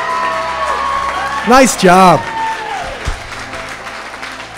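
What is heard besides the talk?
wedding guests applauding the maid of honor's speech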